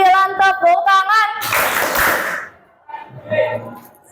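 During a classroom counting game with multiples of three, children's chanting voices give way to a brief burst of group hand clapping, followed by more talking.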